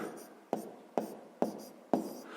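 A pen scratches out a sixth-grade math solution on paper: short, soft writing strokes come in a regular rhythm, about four quick bursts, close and quiet.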